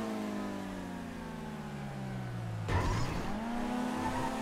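A race car in GTA FiveM drones at steady revs, then drops pitch with a brief skid and a tire squeal before accelerating again, close and continuous.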